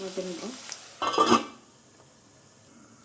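A lid is set onto a pan of onions cooking on a medium gas flame for drumstick egg curry, giving a brief metallic clatter after a short spoken phrase, then a faint, quiet sizzle.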